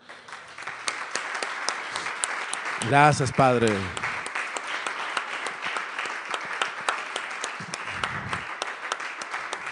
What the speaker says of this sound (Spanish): Ríndale un aplauso al Señor.